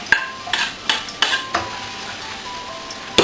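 Onion and garlic sauté in a pan. A spoon clinks and scrapes against the metal about every half second, over a soft background sizzle.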